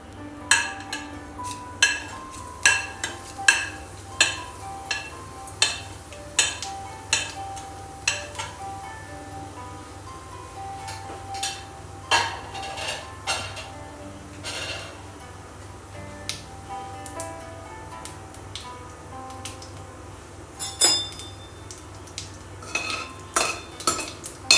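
Cumin seeds crackle and pop in hot oil in a pan while palak paneer is cooked, giving a steady stream of sharp, irregular snaps over a faint low sizzle, with no talking.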